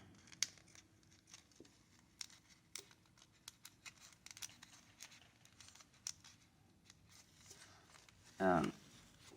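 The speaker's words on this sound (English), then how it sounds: "With scissors, just hack that thing off." Scissors snip through a dry palm frond during palm weaving, giving faint clipped cuts and rustles scattered across a quiet stretch, ending in a louder crunching burst near the end.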